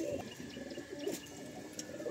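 Pigeons in a loft give faint, low cooing calls, a couple of soft coos over a quiet hum of background noise.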